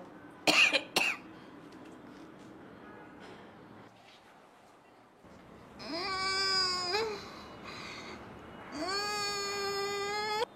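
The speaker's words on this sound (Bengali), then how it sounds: "কাশতে পারবো তো।" A man coughs twice in quick, harsh bursts near the start, followed by quiet background and then drawn-out whiny vocal sounds, in a Bangladeshi radio comedy drama.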